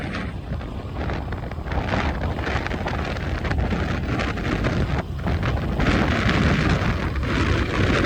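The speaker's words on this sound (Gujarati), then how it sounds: "એને મસ્ત પવન આવે છે" Wind rushes past during a road ride from Bhanvad to Porbandar, a continuous loud buffeting roar against the microphone with no one speaking.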